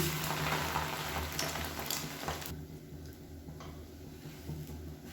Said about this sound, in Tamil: இப்போ முட்டை தோசையை திருப்பி போட்டுக்கலாம்.